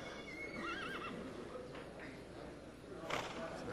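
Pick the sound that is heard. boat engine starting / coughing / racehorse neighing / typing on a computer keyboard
racehorse neighing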